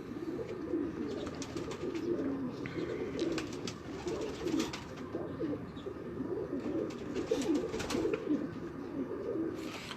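Breeder pigeons at a loft coo in a dense, continuous chorus of overlapping throaty calls, close and steady for the whole stretch, with faint rustling and clicks.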